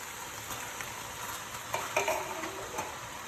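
Diced tomatoes added to a drained meat mixture in a pan, giving a steady, close frying sizzle with a few stirring scrapes partway through.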